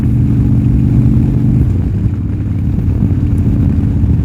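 A 1987 Harley-Davidson FXRC motorcycle engine runs steadily and loud throughout, a deep low rumble that eases slightly partway through, with no voices.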